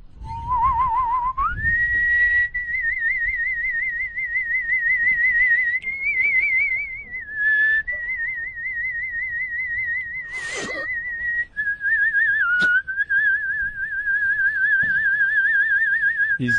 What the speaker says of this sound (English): He's whistling in already, eh?